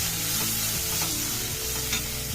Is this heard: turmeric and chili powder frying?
yes